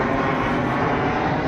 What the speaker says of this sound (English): You can watch all the planes